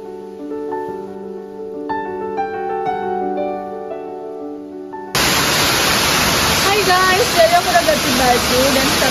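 Temesi waterfall in Bali roars in with a loud, constant rushing wash right after a stretch of melodic music, and a voice talks briefly over the falling water.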